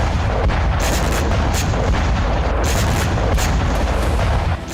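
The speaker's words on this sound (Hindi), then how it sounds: "यूक्रेनी ड्रोन पहुंचता है और फिर टक्कर से जोरदार धमाका होता है" A drone strikes two Russian infantry fighting vehicles, setting off loud, continuous blasts and booming rumble that fill the whole stretch without pause before easing off at the end.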